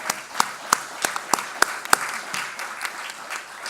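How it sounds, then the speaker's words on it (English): Applause from an audience for the faculty at an academic research day, with a few sharp, close individual claps standing out early and then a softer, steady patter of clapping that tapers off. "Let's give them another round of applause."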